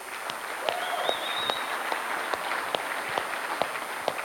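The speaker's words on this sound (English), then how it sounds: "let's give a round of applause for Kyle real quick." Audience applause at a security conference, a short steady patter of clapping from a moderately sized crowd heard from a distance, with a couple of faint whistles over it.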